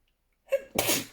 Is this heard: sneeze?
yes